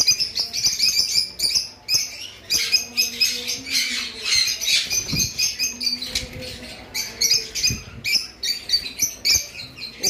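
Pet birds in a shop, including Fischer's lovebirds, squawking and chirping continuously in a dense, busy chorus of sharp, high calls close by, with no voices.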